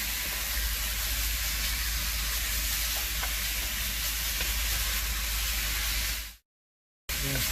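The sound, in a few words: stirring seasoned tri tip beef in cast iron dutch oven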